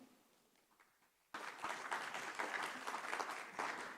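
After a quiet pause, applause suddenly breaks out from an audience at a smart grids best-practice showcase and continues as steady, dense clapping to the end.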